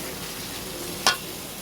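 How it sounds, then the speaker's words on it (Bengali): Fish fries in oil with a soft, steady sizzle, broken once by a short, sharp crackle or spatter midway. "মাছ ভেজে রাখছি, ভাজা মাছ দিয়ে দেবো।"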